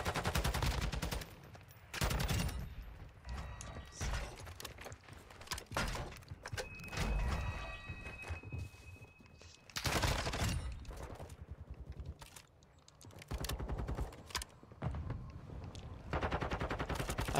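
Assault rifle fire in a video game, repeated bursts of rapid automatic shots separated by short quiet gaps, fairly close and sharp, no talking.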